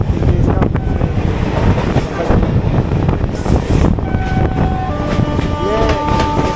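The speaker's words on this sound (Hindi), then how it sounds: "लोकल ट्रेन है पैसेंजर।" Loud rumble and clatter of a local passenger train rolling past nearby in India, with brief squealing wheel tones near the end.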